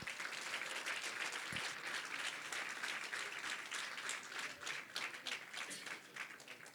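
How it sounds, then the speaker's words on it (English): Sustained applause from an audience at an Eritrean Independence Day celebration at the Eritrean Embassy in Washington, DC, steady dense clapping throughout with no clear talk. "Please, round of applause."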